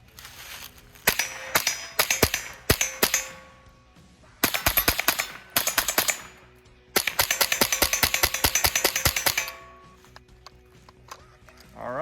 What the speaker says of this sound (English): that's 25 rounds out of the magazine, and hollow points ran absolutely flawlessly